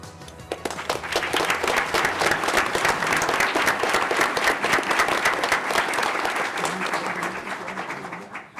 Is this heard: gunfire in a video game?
no